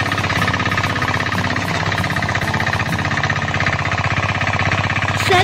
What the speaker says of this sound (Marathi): सर्व ठिकाणी पावर टिलरच्या मशीनचा आवाज येत होता